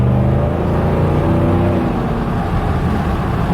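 A Cadillac Escalade with a Corsa Sport exhaust is blipped nearby, its deep exhaust note swelling at first and then dropping back to a lower rumble partway through, with no talking.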